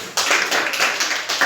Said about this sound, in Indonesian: Kasih tepuk tangan untuk si Rama.